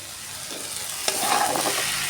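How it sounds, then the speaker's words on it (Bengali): Dried shrimp frying in a pan, a steady close sizzle that swells louder partway through, with a brief utensil clink and no voices. "আলাদা করে শুটকিটাকে ভাজবো"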